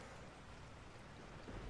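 Rain in the Resident Evil 4 video game, a faint, steady hiss of falling rain with a low rumble swelling near the end, and no voices.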